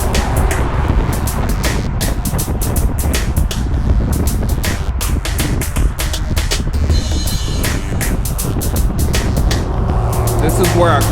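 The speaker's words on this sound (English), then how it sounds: "We just have a high volume of cars coming in at this point." Heavy traffic streams past on a busy road near Lake Conroe, heard from a cyclist on the shoulder as a constant roar of passing cars, largely buried under loud, steady wind buffeting.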